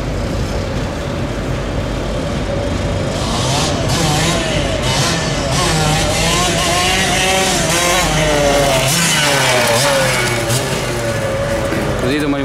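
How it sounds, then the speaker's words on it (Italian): A Puch 75 moped engine runs steadily and close by, its buzzing drone rising and falling slightly, with voices talking over it. "Gira bene il motore."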